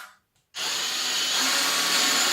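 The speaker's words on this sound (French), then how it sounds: "on vient visser directement celui-ci" A power drill drives a screw that fixes a U-rail onto a post for a Fiberdeck Pacific fence. After a short quiet moment the motor starts sharply and then holds a loud, steady whir up close.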